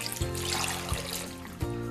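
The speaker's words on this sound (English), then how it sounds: "then we're gonna cover with cold water." Cold water pours into a pressure cooker pot holding soy sauce for homemade shoyu ramen, a steady close splashing trickle with a few brief gurgling bumps.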